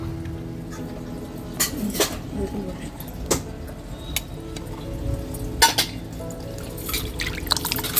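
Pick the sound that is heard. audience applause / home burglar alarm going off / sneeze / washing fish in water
washing fish in water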